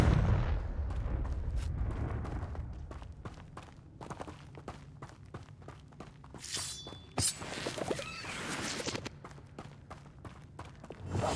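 Explosive blasts of the Confringo fire spell in the Hogwarts Legacy video game, several sharp booms over a rumbling game soundscape with footsteps, fairly soft overall.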